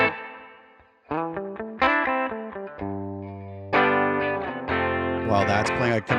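Electric guitar riff played through a Les Paul bridge pickup on a clean ToneX tone model, a run of picked notes and sustained chords with some distortion and chorus sheen, close and loud.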